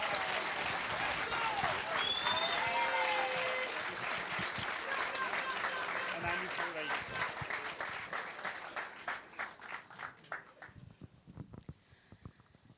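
Applause from an audience at a school slam poetry show rings out as dense, sustained clapping that slowly thins and fades to scattered claps before dying away, with a few whistles early on.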